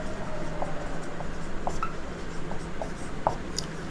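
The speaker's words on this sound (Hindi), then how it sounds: "यहीं पे लिख रहा हूँ" Chalk or marker scratches across a board in short, irregular strokes with small squeaks and taps, close and clear over a steady background hiss.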